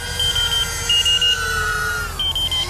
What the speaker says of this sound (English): Beeping. It's beeping at me